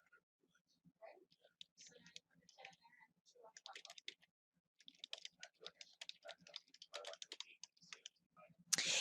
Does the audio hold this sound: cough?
no